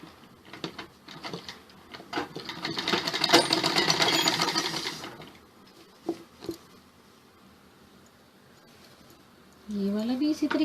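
Sewing machine stitching fabric for an umbrella-style suit, rapid close mechanical patter in bursts that swell and fade, with someone talking near the end.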